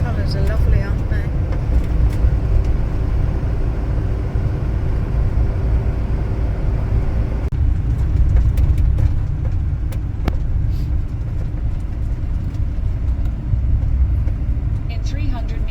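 A road vehicle's engine drones steadily and loudly from inside the cab while driving on a Spanish road, a continuous low rumble that never lets up, with people talking over it.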